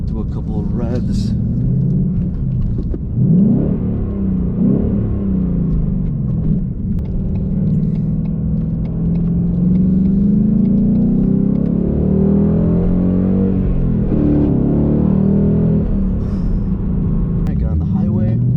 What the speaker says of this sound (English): And I'll do a couple of revs.